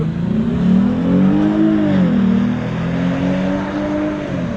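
A Volvo S60 T6 P3 Stage 2 roars at full throttle down a quarter-mile drag strip, its loud engine tone climbing steadily and continuously with no voices over it.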